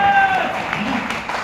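Seminar audience clapping at an RCM business meeting, a dense round of applause that is loud at first and then eases slightly, with a faint tone early on.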